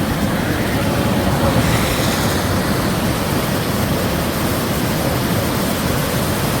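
The Cross River waterfall beside Highway 61 on Lake Superior's North Shore roars as a loud, steady, broadband rush of falling water, close and unbroken, with no voices.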